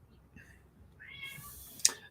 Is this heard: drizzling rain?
no